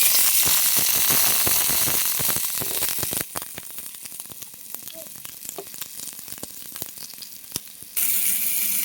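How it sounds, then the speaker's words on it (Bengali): Potatoes frying in hot oil, a loud dense crackling sizzle that drops to quieter popping and spattering in the middle before surging back up, with no voices. "প্রথমে আলুটাকে আমি ভালো করে ভেজে নেব।"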